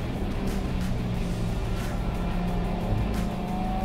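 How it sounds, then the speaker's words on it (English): Katech Stage 4 Corvette Z06 race car, 860 hp on E85 with a wing and splitter, roars steadily at speed on a circuit, engine drone loud and continuous throughout from onboard. "So we're in a Katech Stage 4 Z06 with 860 horsepower on E85."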